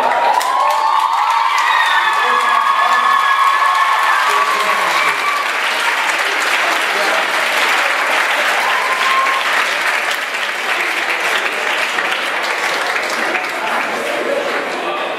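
A large crowd at the Kröswang Gastrocontest 2016 catering-school competition applauds and cheers after a runner-up is announced. The applause is steady and loud across the whole stretch, with whoops and shouts mixed in over it.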